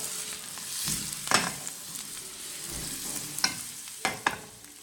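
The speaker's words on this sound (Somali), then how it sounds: "marka saliida dabka soo saaran waxaan ku darsanaynaa waxaan ku darsanaynaa wax yar oo basal ah" Onion fries in hot oil in a pan, giving a steady close sizzle broken by several brief louder scrapes and crackles as it is stirred.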